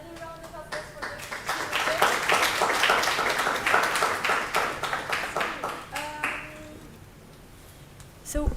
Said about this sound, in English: Another round of applause for the